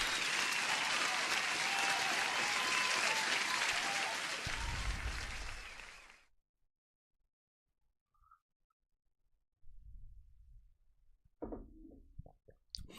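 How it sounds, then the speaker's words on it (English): Dense applause from a crowd fills the first six seconds, loud and steady before fading out, followed by quiet and a few faint scattered sounds. "Let me give you an applause"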